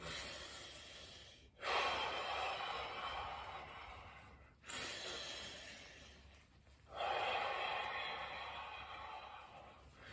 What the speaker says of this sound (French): maintenant, on se concentre juste sur l'inspiration et l'expiration